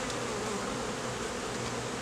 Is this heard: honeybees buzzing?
yes